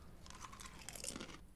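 Faint, steady crunching of crisps being eaten in a TV drama scene, a dense run of crisp bites and chewing lasting about a second and a half.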